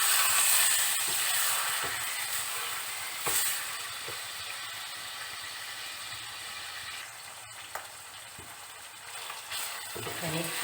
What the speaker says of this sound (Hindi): मैंने कीमे को जिंजर गार्लिक पेस्ट में अच्छे से भून लिया है